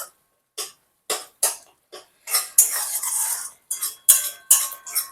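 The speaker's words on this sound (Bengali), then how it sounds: "সমস্তটা ভালো করে নাড়িয়ে নেব" A spoon scraping and clanking against a pot while stirring vegetarian jackfruit curry (kathal kalia) on a medium flame, a series of short, close, sharp metallic strokes with brief gaps, then a denser run of scraping.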